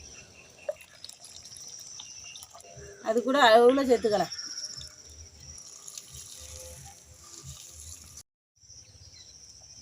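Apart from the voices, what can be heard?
water being poured into cooking pot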